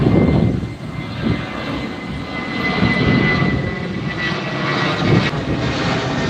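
An airliner takes off at Heathrow Airport with a loud, steady broadband jet roar and a faint tonal whine, sustained throughout with slight swells in level, heard alone without any talk.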